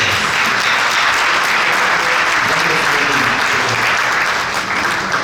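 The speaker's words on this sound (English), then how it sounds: "shall we give her a round of applause?" Applause from a church congregation at a ten-year pastoral anniversary celebration, dense and steady throughout, loud and close, with a few voices audible under the clapping.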